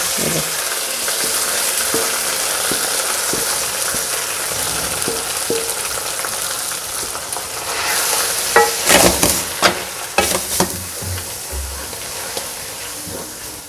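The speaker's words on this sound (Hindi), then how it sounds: "बस इसी के ऊपर ऐसे तड़का डाल देना।" Continuous broadband sizzle as hot spiced tempering oil is poured over cooked mustard greens, rising to a burst of louder crackling and spattering, then settling back down, with no talking.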